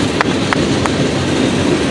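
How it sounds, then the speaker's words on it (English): A long 16-car freight train rolls past close by on an old Southern rail line, a loud steady rumble broken by sharp rhythmic clacks of wheels over rail joints. "16 cars on this train. Man, this is good length going into Linwood."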